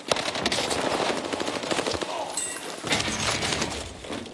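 Sustained automatic gunfire in the Warzone Rebirth video game, with dense rapid bursts that fill the clip and a brief lull midway, loud and close.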